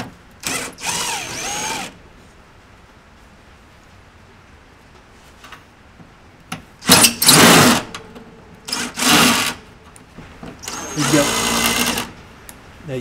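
A power drill loosens the four screws holding a gas valve bracket on a Dometic RM2652/RM2852 RV refrigerator's cooling unit, sounding as several separate whirring bursts of a few seconds each between quiet gaps.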